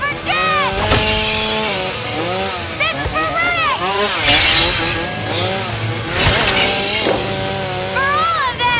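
A chainsaw engine revs and whines as it is swung wildly in a horror film scene, beneath frantic shouting and screaming voices, loud and chaotic throughout.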